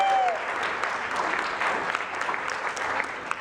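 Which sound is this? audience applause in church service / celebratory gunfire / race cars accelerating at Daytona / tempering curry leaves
audience applause in church service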